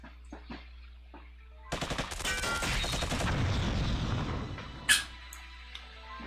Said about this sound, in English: Gotta love the sound of gunfire.